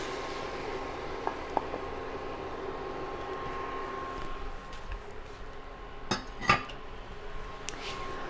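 Metal spoon scraping and clinking in a pot while tapioca and beef with its stock are stirred together for a Kerala-style kappa dish, with a few sharper knocks near the end over a steady background hum.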